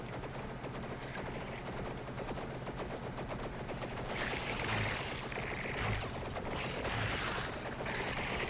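Sustained gunfire rattles through a video game shooting match, dense and continuous, with a few brighter bursts punctuating the steady barrage near the end.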